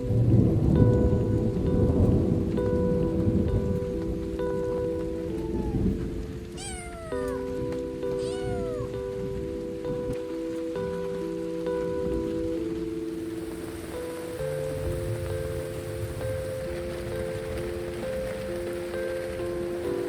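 Heavy rain pours steadily through a thunderstorm while thunder rumbles low underneath. A cat meows a couple of times partway through, and a faint tonal background runs alongside.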